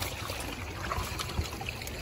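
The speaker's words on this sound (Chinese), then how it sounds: "这里跟个小瀑布似的" Water trickles and splashes out of a seaside drain outlet like a small waterfall on a tidal shore, a soft continuous gurgle heard close and fairly quiet.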